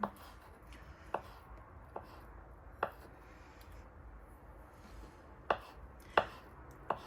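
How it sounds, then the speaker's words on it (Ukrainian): A knife slices boiled eggs into strips on a cutting board, producing about eight sharp, irregularly spaced taps against a faint background hum. "Тепер нарізаємо яйця. Ріжемо навпіл, отак, а потім нарізаємо смужками."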